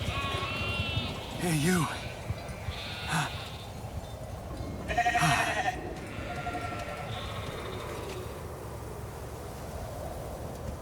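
Sheep bleat in The Alters video game, two or three wavering calls at moderate distance over a low windy ambience, with a brief spoken voice between them.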